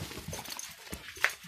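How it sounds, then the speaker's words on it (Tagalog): A restless dog whimpers and gives a short yelp or bark in close range, with scuffling and movement noise around it during a lively greeting. "Yan yung aso kong maligalig."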